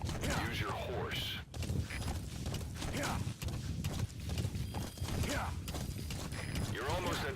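Horse galloping in the video game Metal Gear Solid V, a steady rhythmic stream of hoof clip-clops with mechanical rattles, loud and continuous under a voice that talks over it.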